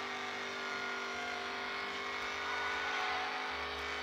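A car drifting in the Need for Speed No Limits racing game, its engine holding a steady droning roar with slight rises in pitch, continuous and fairly close, with no talking.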